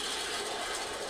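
A toy machine gun elevation unit turning and ratcheting, a dense, continuous, loud mechanical rasping chatter over one short stretch.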